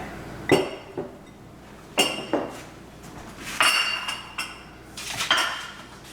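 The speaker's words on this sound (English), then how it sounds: "I like to whisk this mixture together. I don't want any cornstarch lumps." A whisk works a cornstarch chocolate pudding mixture in a bowl, giving bursts of metallic clinks and scraping taps at an uneven rhythm, close and fairly clear, with no talking.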